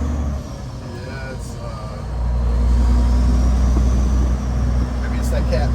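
Custom Peterbilt 379 truck with a Caterpillar engine idling close by, a deep steady diesel rumble that swells louder partway through and holds, with a faint voice underneath.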